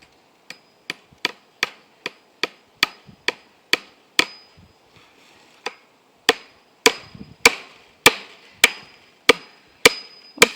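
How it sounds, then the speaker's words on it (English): Sharp, evenly spaced hammer blows drive U-nails into a wooden fence post, a steady run of close, loud metallic knocks with a short pause partway, then another string of strikes. "I just find that it's easier to use a hammer."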